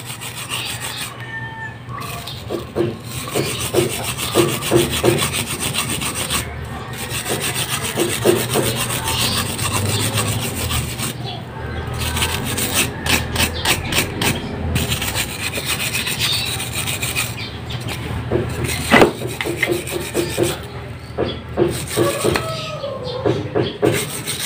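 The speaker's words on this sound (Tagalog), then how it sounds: "Pero babrasan ko na lang steel brush para matanggal yung mga kalawang." A steel brush scrubs rust off brake caliper pistons in continuous harsh, rasping strokes, close and loud, with brief pauses between bursts and no talking.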